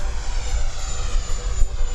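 An E-flite F-16 80mm RC jet on its landing approach carries a steady ducted-fan whine, with small pulses of added thrust, close and fairly loud throughout.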